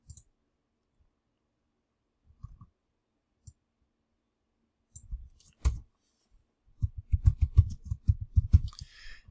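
Computer mouse clicks while a website is being edited: a few isolated clicks early on, then a dense burst of rapid, close clicking near the end, with no talk.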